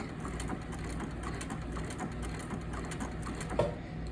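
A sewing machine stitches appliqué fabric in a quick, even run of faint mechanical clicks, quiet and close, with a slightly louder knock near the end.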